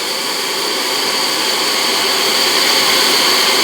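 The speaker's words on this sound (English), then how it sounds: "Open the blower as a vent" On a Union steel railroad steam locomotive, the blower is opened as a vent after the fire is shut off, giving a loud, steady roaring hiss of rushing air and steam that builds slightly and continues unbroken.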